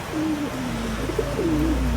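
Soft, repeated cooing of pigeons at a goat farm, low and rolling, over a steady background hum with no one talking.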